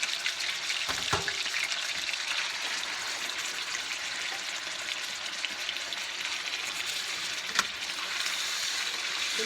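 Chicken and mushrooms browning in a hot pan give a steady, fairly loud broadband sizzle that runs the whole time, with a few sharp clicks and spatters and no voices.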